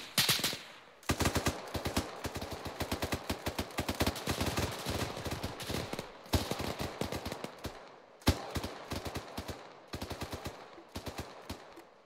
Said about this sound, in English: Just laying down some cover fire